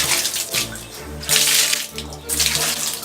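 Cold water runs steadily from an outdoor shower, a broad hissing spray that swells and eases in loud bursts, with faint voices partly underneath.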